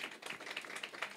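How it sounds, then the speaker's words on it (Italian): An audience at the Premio Tamara de Lempicka award event claps all together in a soft, continuous patter that sounds faint and somewhat distant. "fatevi un applauso tutti assieme"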